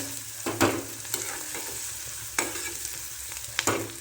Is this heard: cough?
no